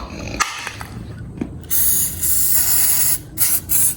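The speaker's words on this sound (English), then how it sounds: "let me get some cooking spray on there." Several short hissing bursts of a cooking spray can spraying, each lasting under a second, following some faint clatter.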